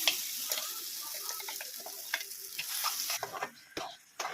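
Radish chutney stirred in a hot pan, close-up scraping and stirring with a soft continuous sizzle, steady and alone without talk.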